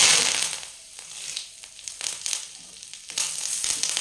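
Curry leaves fry in a hot pan for sambar powder, giving a close, steady crackling sizzle with small pops and scrapes, no voices.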